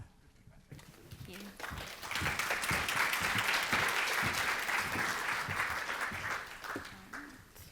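Audience applause for speakers at a talk on skills infrastructure for learning and talent mobility, building into a sustained, fairly loud wash of clapping that tapers near the end, with faint voices mixed in.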